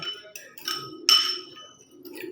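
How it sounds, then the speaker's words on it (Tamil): Light glassy clinks and scraping as a henna paste mixed with water is stirred in a glass bowl, a few taps close by with quiet pauses between. "இந்த தண்ணியை நல்லா வந்து கலந்து விட்டுருங்க"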